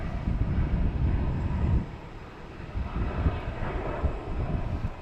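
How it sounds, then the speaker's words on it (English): A fixed-wing airliner taking off at Boston Logan Airport, a loud continuous low engine roar with wind buffeting that eases slightly partway and then swells again. "That was a pretty takeoff."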